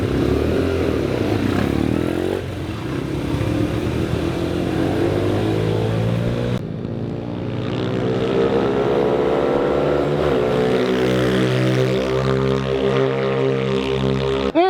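Go-karts with Honda engines race around a track in a father-daughter race, several small engines buzzing and revving at once, shifting pitch as they pass and fade, loud and continuous with no talk.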